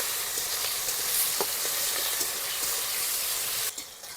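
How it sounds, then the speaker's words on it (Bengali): Chopped onion and tomato frying together in hot oil for a Bengali rohu fish curry, a steady close sizzle and crackle with a few stirring scrapes, ending abruptly near the end. "একটু পেঁয়াজটা ভালো করে লাল করে ভেজে নেবো।"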